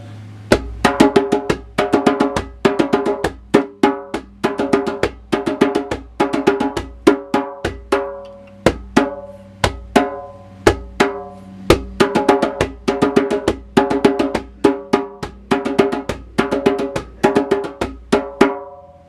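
A drum plays a steady rhythm of paired beats, like a heartbeat, repeating evenly throughout. The hits are close and clear, with no voices.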